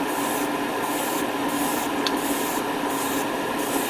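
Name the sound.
airbrush spraying Alclad paint onto aluminum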